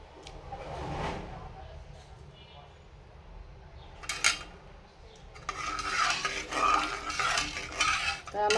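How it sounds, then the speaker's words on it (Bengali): A spoon stirs lentils in a pan after green chillies are added, giving scraping, clinking strokes with some faint frying sizzle. Sparse scrapes come first, then denser, louder stirring in the second half. A voice speaks faintly in the background. "কাঁচামরিচ দিয়ে দিতেছি"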